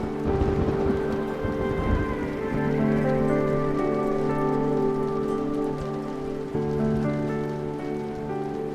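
Steady rain falls throughout an outdoor scene from a Pakistani drama, a dense continuous patter on surfaces with tonal music underneath.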